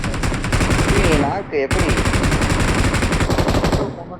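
Rapid sustained automatic gunfire sprayed in a first-person shooter video game, loud and dense bursts with a brief pause midway, while Tamil-speaking players talk over it.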